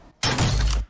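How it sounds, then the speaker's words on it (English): A Fortnite headshot sound effect from the video game: one short, loud, broadband crack with a heavy low thump, lasting about half a second, standing alone in a quiet background. "I'm also going to add this headshot sound."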